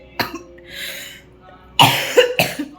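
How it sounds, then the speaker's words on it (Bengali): A few sharp, harsh coughs come close to the microphone, spaced apart with a breathy exhale between them. "এত কাশি হচ্ছে"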